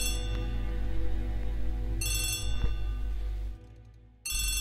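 A telephone rings in two bright electronic bursts separated by a pause, loud and close with no voices over it.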